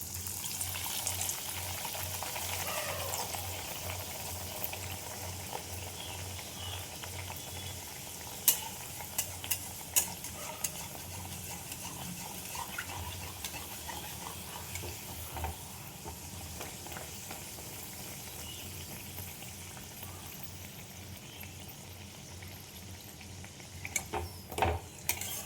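Luchi puffing as they fry in hot oil, a constant soft bubbling sizzle with scattered clicks and pops over about twenty-five seconds, close and fairly quiet, no voices.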